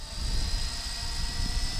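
A radio-controlled helicopter spools up for takeoff, its rotor and motor making a steady, loud, broadband whir with a constant whine and no pauses.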